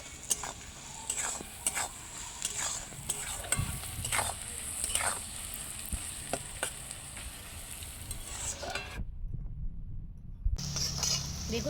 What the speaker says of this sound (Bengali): পেঁয়াজটা আমার ভাজা ভাজা হয়ে এসেছে